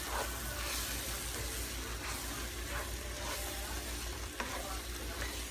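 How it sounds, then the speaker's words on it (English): Crawfish étouffée base sizzles steadily in melted butter as it is stirred in a pot, with a constant close frying hiss and occasional scraping of the spoon; no one talks. "And you just stir that up."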